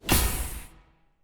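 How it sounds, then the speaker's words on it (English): A burst pipe effect made for a horror game: one loud, sudden blast with a hissing rush of air that peaks quickly and fades out over about a second. "So that's what it sounds like when the pipe busts."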